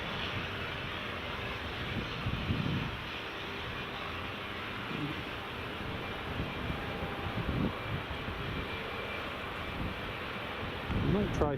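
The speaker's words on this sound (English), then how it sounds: "Mike Tango Bravo, ATR 72 600, Golf Lima Mike Tango Bravo, flight LM 357 up to Shetland." An ATR 72-600 turboprop on flight LM 357 to Shetland at Edinburgh Airport: a steady, broad engine roar with wind buffeting the microphone, holding level throughout and swelling slightly near the end.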